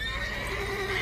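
Horse whinny from The Witcher 3, a mare neighing in a sustained, bright call lasting about a second over steady game ambience, loud and close.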